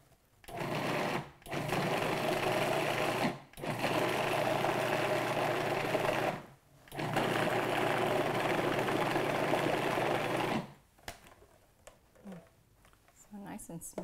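Food processor pulsing pumpkin cheesecake filling in three long, loud whirring bursts separated by short pauses, followed by quieter clinks and rustling.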